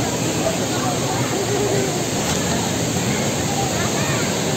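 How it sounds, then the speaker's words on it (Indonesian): The waterfall at Curug Pangeran in Bogor gives a steady, loud roar of falling water that holds constant throughout. "Ayo bos Hakim, kita mandi di air terjun."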